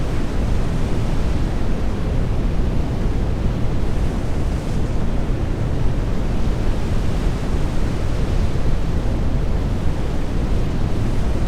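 Wind and waves wash around a ship in the NAUTIS ship simulator game, a loud, unbroken roar of surf and gusting wind with no voices.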